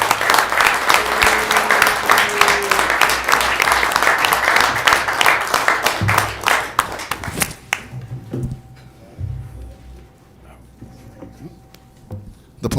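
A city council meeting audience claps loudly for two councilors, a dense burst of hands that thins into scattered claps and fades to a quiet room.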